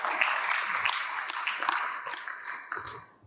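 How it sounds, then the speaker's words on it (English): An audience at a business forum session applauds four panelists, a dense, steady wash of clapping that thins slightly toward the end, with a few brief voices mixed in. "Please help me give a round of warm applause to them."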